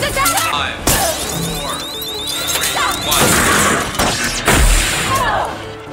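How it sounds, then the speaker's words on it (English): Glass shatters as an alien breaks through it, with several loud crashing impacts and tinkling debris, a cinematic smash sequence. "Eve smashed through the glass and escaped"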